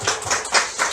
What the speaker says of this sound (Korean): 우리 환영하는 박수로 그냥 한번 격려해 주시면 감사하겠습니다